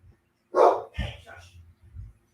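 A dog barks a few times at a distance, a loud first bark followed by softer, shorter ones amid low background rumble and faint talk.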